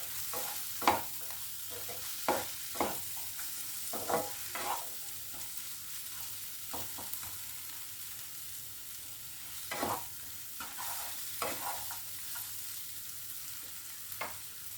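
Frying spices with coriander powder for an egg do pyaza are stirred in a pan, a low steady sizzle broken by repeated scraping strokes of a spoon at an unhurried, irregular rhythm.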